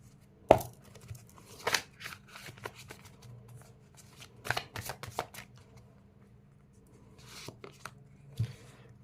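Tarot cards are shuffled and handled close up, irregular crisp snaps and rustles scattered between quiet gaps.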